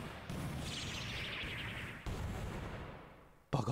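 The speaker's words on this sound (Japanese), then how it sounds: "爆発した" An explosion in the Pokémon Quest video game gives a long rushing boom with a sweeping whoosh. It fades out over a few seconds, and a second sharp burst hits at the end.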